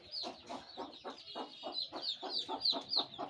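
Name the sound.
chickens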